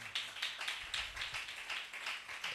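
A church congregation claps in steady rhythm to acclaim the Lord, with even, evenly spaced bursts of hand claps filling the room at moderate volume, without speech.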